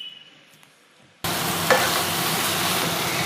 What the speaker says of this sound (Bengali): এবার আমাকে ভালোভাবে কচুর শাকগুলো নাড়তে হবে, কোনো রকম যাতে জল না থাকে।